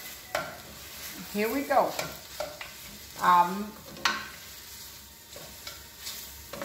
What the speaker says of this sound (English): we're about to get these beans in this pot so they can start creaming down